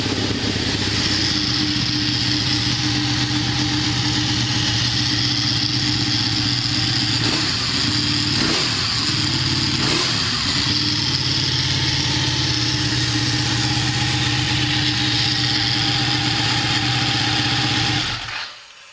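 Loud motorcycle engine idling close by with a rough, growling steady drone, a few brief blips of throttle near the middle, then cutting off at the end; no voices.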